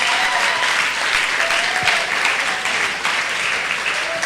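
Audience applause at a church round-table gathering, dense continuous clapping from a crowd, loud and steady across the whole stretch.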